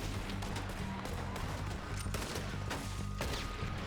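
A repeater rifle in the game Red Dead Redemption 2 fires several shots spaced unevenly, sharp bursts over a constant dense rumble of game sound and music.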